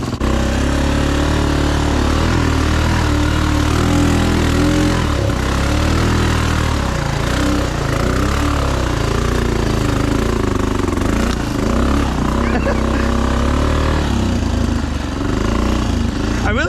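A lifted Honda Foreman 500 ATV runs its engine loudly and continuously close by, with a rough chugging tone that rises and falls in load as it climbs through off-road terrain.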